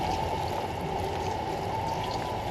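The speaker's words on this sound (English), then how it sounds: "I'm trying to wash my hands" Tap water runs steadily while hands are washed, a constant, close rushing splash with no pauses and no voices.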